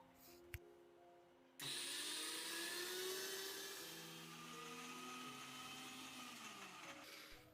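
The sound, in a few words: mixer grinder grinding lentil paste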